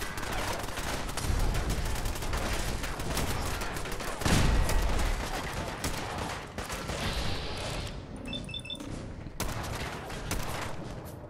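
Rapid bursts of gunfire in Fallout 4 rattle almost nonstop for about eleven seconds, loud and dense, with volleys and heavy single shots piling on each other and only brief thinning near the end.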